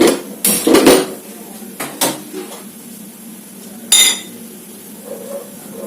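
A pot of ragi mudda, finger millet dough, being stirred on the stove gives a few close metallic clanks and scrapes, sharp knocks scattered between quieter stretches, with no one speaking.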